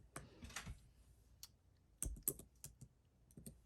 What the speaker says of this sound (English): I'm actually going to try to type it in here